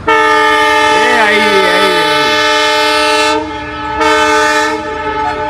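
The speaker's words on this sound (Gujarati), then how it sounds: "જોઈ શકો છો અમારી પાછળ આવે છે ટ્રેન." A train horn blares loudly and close, holding a long wavering tone, then sounds again briefly over the rumble of the passing train.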